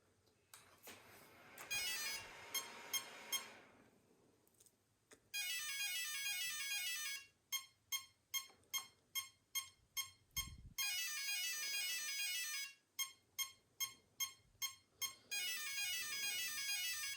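The electronic speed controller of a 30 hp dual-motor RC car chirps through its calibration: bursts of rapid high-pitched beeping trills, then a steady run of evenly spaced single beeps, more trill bursts and more beeps, all clear and close without talking.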